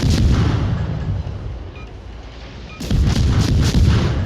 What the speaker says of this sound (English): there are some other ships shooting at me